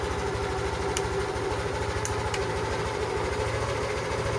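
Yamaha Aerox 155 scooter engine idling steadily nearby, a low even putter with a few faint clicks from the signal light.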